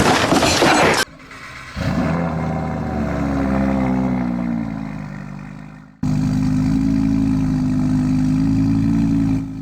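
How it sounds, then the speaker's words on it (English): A car engine in the Driving Empire video game starts up inside a building: a sharp loud burst, then a rising engine drone that fades, then a steady, loud idle hum. "So here is the startup inside a building."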